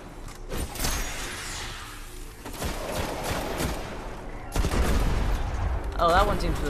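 Gunfire in the video game Destiny, bursts of shots running through a busy battle mix with rumbles and whooshes, fairly loud and dense throughout.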